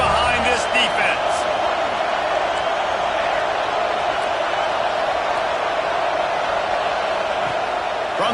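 Stadium crowd at a college football game roaring for the defense on third down, a loud, constant wall of noise heard under a commentator's voice.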